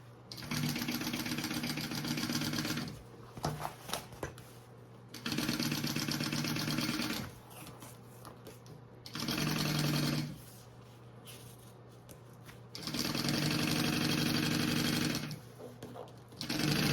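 Sewing machine stitching a seam on a waterproof tote bag, running in four loud bursts of two to three seconds each, separated by short pauses with quieter handling sounds.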